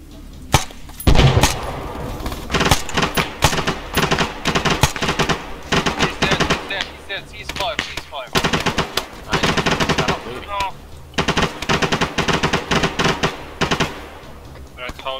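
Machine gun fire in a shooter video game: loud, rapid bursts of automatic gunfire repeat almost without pause, with short breaks between strings of shots and voices talking over the shooting.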